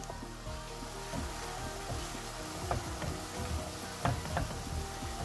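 Washed mushrooms fry and brown in a pan, giving off a steady moderate sizzle as their water cooks out, broken by a few sharp clicks and scrapes of stirring.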